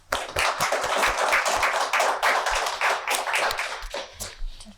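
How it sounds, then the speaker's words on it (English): Audience at a museum talk breaks into applause, dense clapping at close range that swells quickly, holds steady, then thins out toward the end with a few scattered claps. "So let's give them a round of applause."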